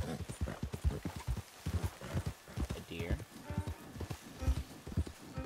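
Horse hooves clip-clop in Red Dead Redemption 2, giving a steady rhythmic trot of close, distinct thuds with a brief whinny partway through, all under ongoing talk.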